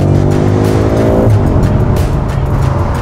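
A BMW M5 F90 with an eight-speed ZF gearbox accelerates hard, its engine roaring loud and close with a rising tone, a brief shift break partway through, then the pull resumes.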